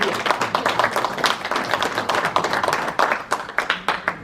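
Applause from the members at a general assembly of a veterans' association in Béarn and Soule, a steady patter of many hands clapping close by, with a voice briefly audible under it.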